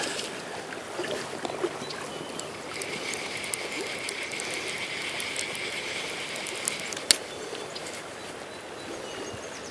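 Fishing reel winding line beside a river while trout fishing, a faint continuous ratchet whir for several seconds over steady flowing-water noise, with one sharp click near the end.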